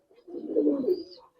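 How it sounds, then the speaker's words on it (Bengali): A Majhi pigeon coos once, low and throaty, in a single soft rolling call close by, with no talk. "দেখেন ভাই এটা মাঝি কবুতর"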